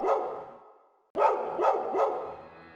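Dogs barking in a Lovecraft-inspired horror visual novel, a burst of barking that breaks off, then three loud, close barks in a steady rhythm with nobody talking.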